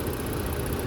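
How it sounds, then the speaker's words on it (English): A 2013 Ford Police Interceptor Utility SUV, front-wheel drive with a 3.7 engine and 96,000 miles, idles with a steady, low rumble, close by and unbroken. "you have the ability to let the vehicle idle without having to have the key in ignition"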